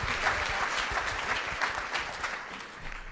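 An audience claps steadily at a large group meeting, with many hands making a dense, even roar of applause throughout.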